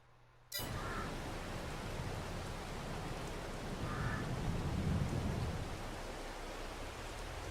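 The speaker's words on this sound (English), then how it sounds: "I cannot believe it started raining." Steady rain in the farming game Farming Simulator 22 hisses loudly and evenly, starting abruptly after a brief quiet moment, with a low rumble swelling midway through.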